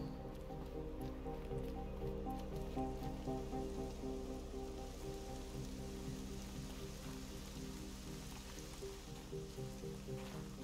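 Soft, steady rain patters in Horizon Zero Dawn beneath a quiet, sustained musical drone, with no one speaking.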